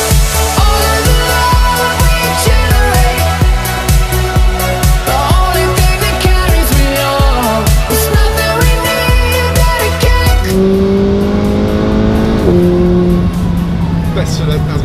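A McLaren 570S Spider with a dual-clutch gearbox drives hard, its engine loud and close with repeated rapid rises and quick gear changes, then a smoother rising tone near the end; someone talks over it.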